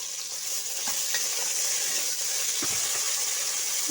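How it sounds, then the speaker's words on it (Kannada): Chopped onion and tomato fry in a pan for tomato bath, a continuous close sizzle with soft stirring scrapes and a few light clicks throughout. "ಹಚ್ಚಿಟ್ಟುಕೊಂಡಂತಹ ಈರುಳ್ಳಿ, ಟೊಮೊಟೊ ಹಾಕಿಕೊಂಡು ಮಿಕ್ಸ್ ಮಾಡಿಕೊಳ್ಳಿ"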